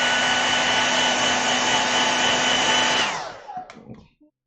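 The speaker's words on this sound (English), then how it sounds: "I'm going to use my hairdryer really quickly." A hair dryer blows over fresh acrylic paint, a loud, steady whirring hum held close for about three seconds before it switches off and winds down, followed by a few faint clicks and handling noises.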